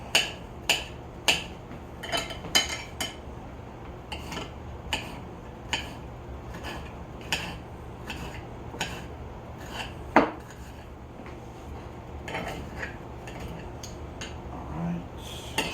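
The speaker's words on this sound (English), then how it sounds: "Man, I better get with chopping." A knife chops vegetables on a board for lasagna in sharp, irregular taps, sometimes in quick pairs, with quiet clinks and no talking.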